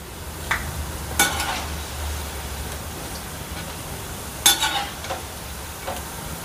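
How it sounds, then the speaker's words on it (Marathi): Chilli bhaji finishing a deep-fry in hot oil for Pune-style disco bhaji, a steady soft bubbling hiss with a few sharp scrapes and clinks of a utensil against the pan, no voices. "आपण मिरचीची भजे तळून घेतलेले आहे"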